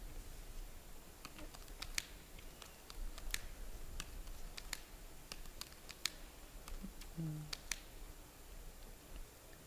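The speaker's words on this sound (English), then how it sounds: "Nothing but the sound of card shuffling." Crisp, irregular clicks and light snaps of playing cards being shuffled over a quiet hiss, close and fairly faint, no talking.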